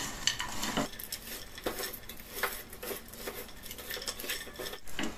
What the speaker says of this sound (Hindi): अभी खजूर गर्म है तो इसीलिए हम चम्मच से मिला रहे हैं